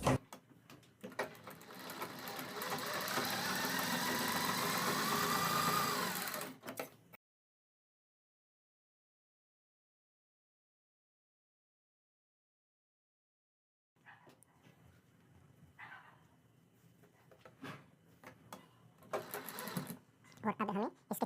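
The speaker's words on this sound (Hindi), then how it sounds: "यहाँ से यहाँ पर सिलाई लगाएंगे" A sewing machine stitches layered fabric for a kurti neck design, running in a steady, close whir for about seven seconds. After a silent gap, fainter, intermittent machine sounds and handling noises return.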